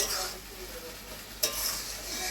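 Watermelon rind cooking in a pan with a wheat flour paste, a steady soft sizzle with stirring scrapes throughout and one sharper clatter partway through, no talking.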